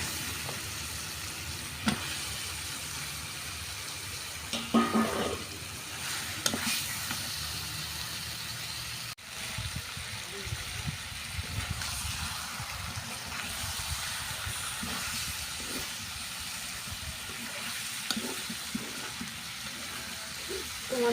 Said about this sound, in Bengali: আমি আজকে মাছ কষিয়ে রান্না করতেছি